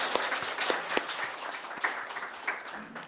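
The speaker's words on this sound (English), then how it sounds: "I invite you to share a round of applause for our speakers" A panel audience applauds its speakers, with scattered, moderately quiet clapping and individual sharp claps standing out in an irregular rhythm, no voices over it.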